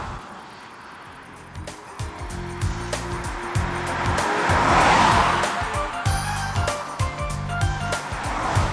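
Volvo with a 2.3-litre 250 hp engine driving fast, a steady loud engine drone rising and swelling toward the middle, with low rumble and some tyre noise throughout.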